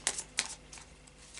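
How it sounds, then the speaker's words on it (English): A deck of tarot cards is given a final shuffle: two quick, crisp papery riffles close by, followed by a few softer rustles. "so I'll just do a final shuffle for you,"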